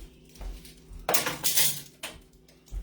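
Glass canning jars being washed for home-canned potatoes, with a loud burst of clinking and rattling glass around the middle, then fainter knocks and a final clunk, no talking.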